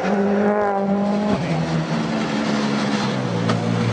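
Mikko Hirvonen's Ford rally car on a tarmac stage at Rally Catalunya, the engine revving hard and dropping through gear changes, with a brief tyre squeal close by.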